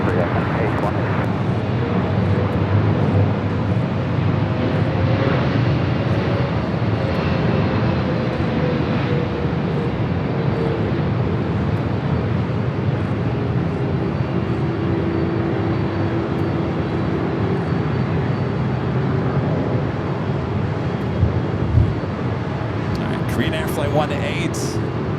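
An airliner roars steadily at Los Angeles LAX airport, a broad continuous engine rumble heard from a distance, with someone talking over it and radio chatter in the background.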